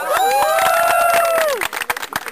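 Crowd at a Filipino rap battle cheers and whoops with rising shouted voices, then breaks into scattered, uneven clapping as the cheering fades.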